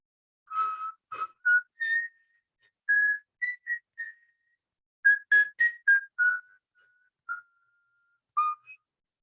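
A single person whistles a slow, mournful melody in clear separate phrases with short pauses, close and fairly loud, no other sounds.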